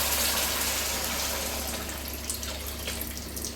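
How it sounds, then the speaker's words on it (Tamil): Warm water pours steadily into a pan on the stove while rava kichadi is cooked, a close, continuous gushing that eases off slightly toward the end. "இப்போ நான் வெதுன்னு சூடு பண்ணி அதில் ஊற்றுறேன்."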